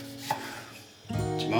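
Knife slicing tomatoes on a board for a tomato omelette: a single soft cut early, a quiet pause, then a louder burst of close chopping strokes toward the end.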